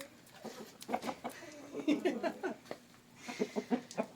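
A chicken clucks in short, soft bursts at a rural home, fairly quiet and close, with brief irregular calls scattered over a few seconds.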